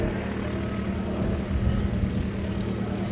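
Light aircraft from the Aero Club approaching an airfield, a steady low engine drone with propeller hum holding at moderate, distant-to-near level throughout, no voices.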